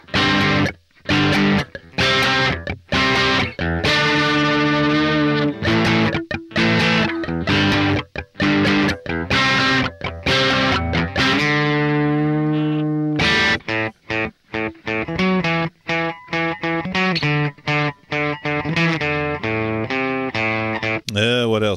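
A First Act ME501 electric guitar played through a Guitar Crunch amp simulation gives loud, crunchy distorted chords and single-note runs, strummed and picked almost without pause.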